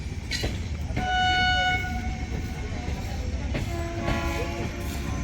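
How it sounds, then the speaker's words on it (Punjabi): An Indian Railways train resumes moving along a track under repair, its horn sounding a few tonal blasts over a steady rolling rumble, moderately distant. "ਟ੍ਰੇਨ ਬਈ ਚੱਲ ਪਈ ਹੈ"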